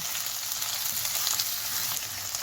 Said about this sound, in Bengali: যতক্ষণ না পেঁয়াজটা একটু লালচে হচ্ছে ততক্ষণ আমি ভালো করে এটাকে কষিয়ে নিচ্ছি